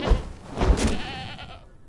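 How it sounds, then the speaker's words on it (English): Goats bleating in the survival video game Conan Exiles, in the Exiled Lands: a couple of wavering, nasal bleats over a dense game ambience, fairly close and moderately loud. "usually in this area you're just gonna have some of these annoying goats"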